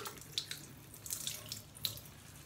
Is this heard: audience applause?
no